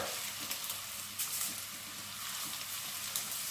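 Chicken meatballs browning in a frying pan give off a steady, close sizzle, with a few brief louder crackles and no voices over it.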